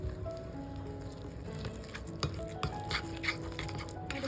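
A spoon stirs a thick hung curd marinade with mint leaves for butter chicken, making soft, faint, irregular wet scraping and squelching sounds in a quiet kitchen.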